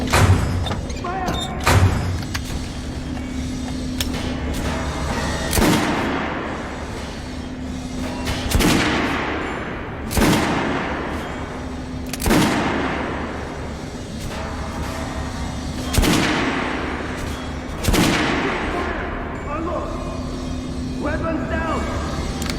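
Gunfire at a shooting range in the video game Metro Last Light, loud single shots spaced a few seconds apart with echoing tails over a steady low hum, voices talking between shots.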